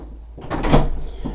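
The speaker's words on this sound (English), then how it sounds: "I now have to get up and open the door to let my dog out of the room" An indoor door is opened to let a dog out of a room, giving a short thump and creak of the latch and hinge, heard close and alone with no talking.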